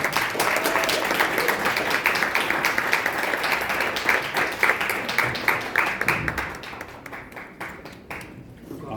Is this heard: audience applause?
yes